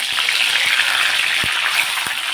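Cumin seeds and curry leaves crackle in hot oil with a dense, loud, continuous sizzle and a few sharp pops, heard close up and alone.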